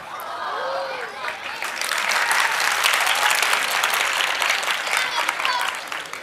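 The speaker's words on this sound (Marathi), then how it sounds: "तर मुलीच टाळ्या वाजायला लागल्या का" Applause from an audience at a motivational talk swells after a brief faint voice, then holds as dense, steady clapping for several seconds, with some voices mixed in.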